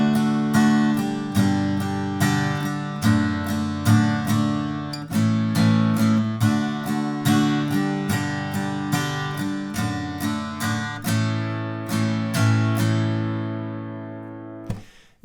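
Acoustic guitar strumming the opening chord line of a song in a steady down-up pattern, each chord struck close and loud in even rhythm before a final chord rings out alone.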